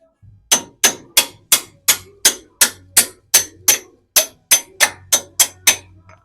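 A hammer strikes metal in a steady, rapid series of sharp blows while installing a leveling kit on a Toyota Land Cruiser 200 Series, about a dozen and a half hits with one brief pause, loud and close.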